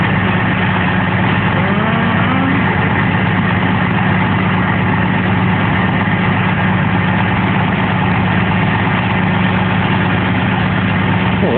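A truck engine idles steadily at close range, a constant low rumble with a faint whine running through the whole stretch, with no voices over it.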